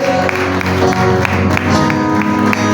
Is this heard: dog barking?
no